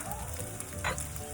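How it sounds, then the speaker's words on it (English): Gnocchi pan-fries with sun-dried tomatoes in a quiet, close sizzle, with a soft stirring scrape partway through the short moment. "now we're going to pan fry it"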